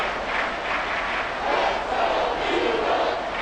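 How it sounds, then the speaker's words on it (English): Stadium crowd in the Madden 24 football video game, a loud, continuous roar of cheering that swells slightly midway and holds steady throughout. "Well, this crowd into it now."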